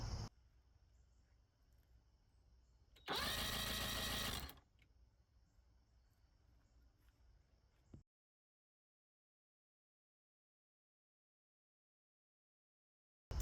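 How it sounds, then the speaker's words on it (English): A 1984 Mercury two-stroke outboard engine cranks over in one steady buzzing burst of about a second and a half, with a faint background hum before and after and silence at the end. "So right now, let's go crank it over and see what we got."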